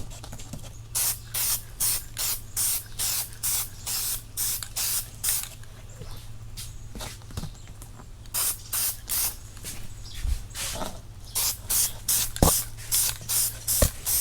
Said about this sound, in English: I'm just gonna be spraying the primer